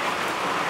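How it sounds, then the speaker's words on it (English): Rain drums on a metal roof as a dense, continuous hiss of countless small impacts, loud and close, with nothing else over it. "I hope you enjoy listening to the relaxing sound of rain on the metal roof."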